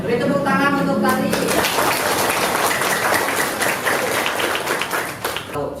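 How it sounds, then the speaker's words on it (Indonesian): Sixth-grade classroom pupils clapping for a classmate, a dense burst of many hands that starts after a brief voice and continues steadily, loud and close, for several seconds. "beri tepuk tangan untuk Tari."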